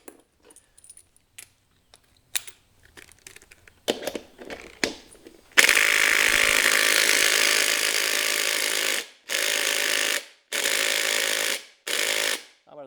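A Hercules impact driver driving a fastener: a few faint taps and clicks, then a loud sustained burst of rapid hammering, followed by three shorter bursts with brief pauses between them.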